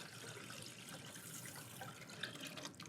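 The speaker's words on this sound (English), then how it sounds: "So I've just got about a gallon of beef stock here, little less than, about 3 quarts. I'm gonna add that right in." About three quarts of beef stock are poured into a pan while making poutine. The liquid splashes and trickles steadily and faintly, with no voices.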